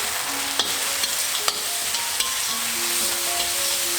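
Noodles stir-fried in a wok for a vegetarian Mee Goreng, a steady sizzle and frying hiss with scattered scraping clicks of tossing, close and alone with no talk.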